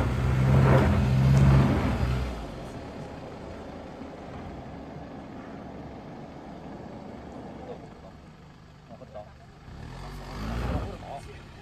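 A car engine revs as the accelerator is pressed on a hillside farm track, with a loud surge at the start and another near the end over a steady engine drone, while people talk.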